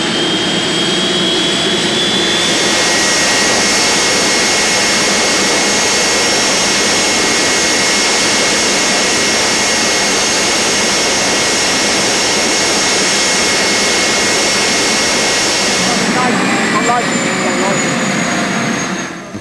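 Twin jet engines of the Thrust SSC supersonic car running up, a loud sustained roaring whine that holds steady for many seconds before easing off near the end.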